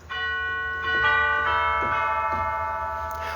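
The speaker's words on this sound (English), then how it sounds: "the chimes." Chimes stop of a 1986 Schlicker pipe organ in a church, ringing bell-like tones struck one after another with long, overlapping sustained decays, loud and clear.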